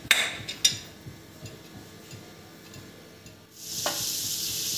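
Butter crackling and sizzling in a pan on a gas stove for a cheese garlic bread recipe, with a few sharp clinks at first, then a soft hiss that swells louder near the end, with no talking.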